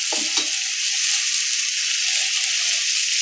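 Water poured into a hot pan of boroli fish curry, with a loud, steady hiss and sizzle throughout and a few soft clinks at the start, close by and with no talking.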